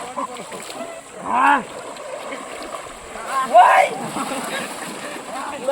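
Water splashes in the Torsa river at an outdoor picnic spot, coming in two louder bursts over a steady wash of flowing water, with voices and shouts mixed in.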